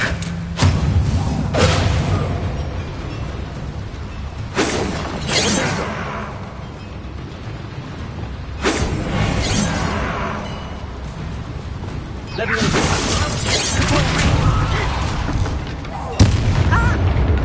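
Confringo and Incendio spell impacts in the Hogwarts Legacy video game land as a series of heavy, booming blasts every few seconds. Each blast has a rumbling tail, with game voices and ambience underneath.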